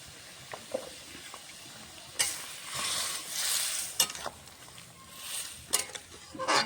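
Vegetables tipped into hot tempering oil for a mixed vegetable and dal dish, loud sizzling bursts rising and fading around soft stirring and pan clinks, no talking.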